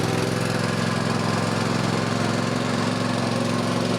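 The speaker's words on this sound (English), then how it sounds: "Starts up. And drives. And cuts." A Cub Cadet lawn mower with a repaired drive spring runs steadily while cutting, its loud, close, continuous engine drone and blade whir holding even throughout with no voices.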